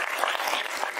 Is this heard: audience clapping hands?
yes